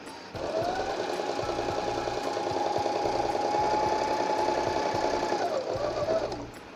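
A Singer 8280 sewing machine stitches decorative patterns in one steady, close, loud whirring run, with a brief change in pitch near the end before it stops.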